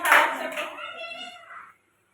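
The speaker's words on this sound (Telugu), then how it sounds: "క్లాప్స్ కొట్టండి" A burst of clapping from anganwadi children, quick dense slaps that fade within about two seconds, overlapped by an adult voice.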